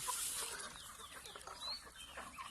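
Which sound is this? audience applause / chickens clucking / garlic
chickens clucking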